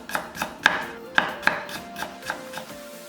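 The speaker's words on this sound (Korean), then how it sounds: "생강 엄지 1000마디 크기 정도를 얇게 슬라이스해서 따로 담고" A knife slices thinly through firm ginger on a board, about ten crisp strokes spaced irregularly, close and clear with no talking.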